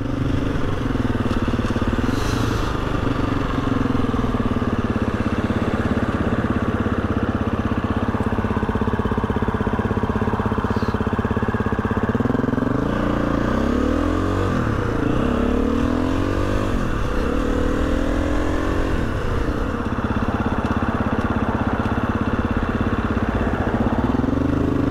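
A Husqvarna FE 350 motorcycle engine runs continuously while being ridden, loud and close, holding a steady drone with a few rises and dips in revs midway.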